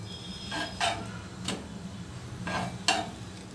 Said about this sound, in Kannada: ಮೊದಲಿಗೆ ಬ್ರೆಡ್ಡು ಸ್ವಲ್ಪ ರೋಸ್ಟ್ ಮಾಡ್ಕೊಳ್ಬೇಕು, ಬ್ರೆಡ್ ಕ್ರಮ್ಸ್ ಮಾಡ್ಕೊಳ್ಳೋದಕ್ಕೆ